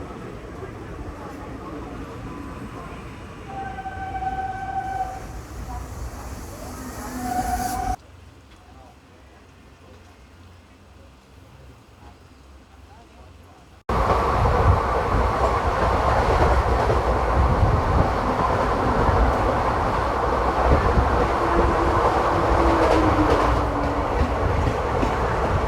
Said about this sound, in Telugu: చెన్నై లోకల్ ట్రైన్ చూడండి ఎలా ఉందో